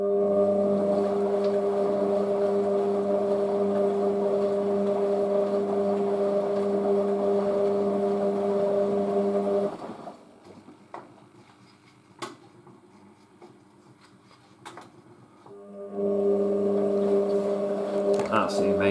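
Motor of a new washing machine running with a steady loud hum and tonal whine, cutting out into a quieter stretch with small clicks and knocks before the hum returns.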